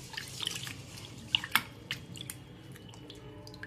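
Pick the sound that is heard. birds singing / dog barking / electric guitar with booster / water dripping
water dripping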